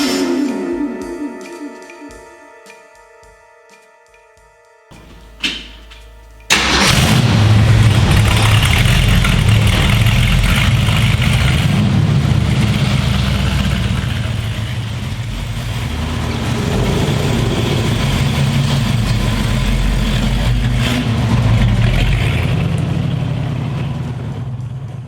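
A 1967 Mustang Fastback 390 S-Code GT V8 cranks briefly, catches with a loud burst, then settles into a steady, throaty idle that rumbles on up close without pause.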